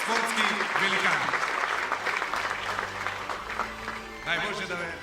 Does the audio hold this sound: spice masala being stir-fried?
no